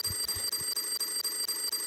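An alarm clock rings with a fast, regular train of electronic beeps, high-pitched and steady at moderate volume, heard alone without any talking.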